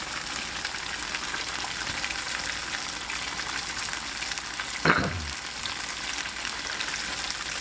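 Dumplings fry in oil in a pan, giving a steady close crackling sizzle with a brief louder hiss of spatter partway through, and no one speaking.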